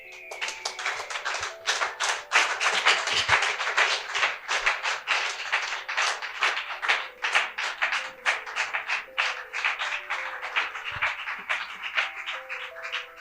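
A church congregation applauding steadily for about thirteen seconds, the dense, rhythmic clapping close and loud, with faint sustained musical tones underneath and no talking.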